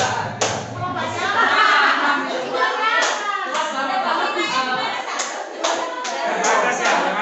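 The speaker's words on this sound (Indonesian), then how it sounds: "Tepuk lima, semangat belajar." A school class claps together in a rhythmic patterned cheer, sharp hand claps in bursts close by, mixed with children's voices talking.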